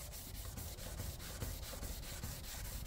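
Clear coat on a Mustang hood being sanded by hand, a steady close scratchy rasp with regular back-and-forth strokes, about a dozen passes with no talking.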